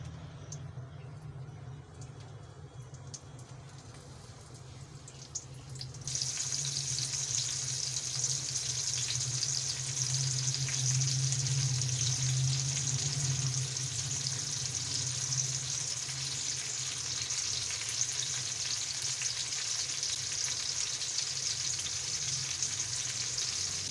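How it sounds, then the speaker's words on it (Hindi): Chopped onions and tomatoes fry in oil left over from frying potatoes for an onion-potato omelette, giving a steady close sizzle that swells louder after the first few seconds and runs on without talk. "प्याज और टमाटरों को हम फ्राई कर लेते हैं।"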